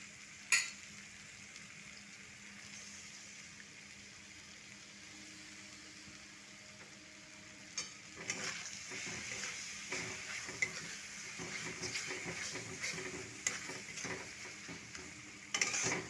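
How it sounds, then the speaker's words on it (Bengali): Spice paste with softened tomato, fennel powder and chili powder frying and being stirred in a pan for a chickpea curry: a steady, close sizzle, joined partway through by scraping stir strokes, with no talk. "ভালো করে মশলা কষে নিচ্ছি।"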